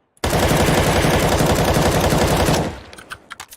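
A sustained burst of automatic rifle spray fire from an AK, Galil or M4 in CS:GO, loud and rapid for over two seconds, ending abruptly with a few scattered clicks and thuds.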